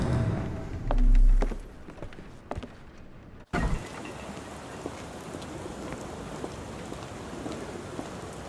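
Rain in the Sherlock Holmes: The Awakened video game, after a low rumble and a brief muffled stretch, breaks into a steady, dense downpour of hissing rain that carries on alone to the end.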